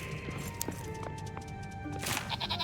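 A goat bleats in the video game Return to Moria, with several short, faint bleats and soft thuds over quiet ambient game sound.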